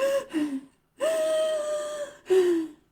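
A voice imitates labored breathing with three strained, gasping breaths, each drawn out and voiced, close and fairly loud with short pauses between.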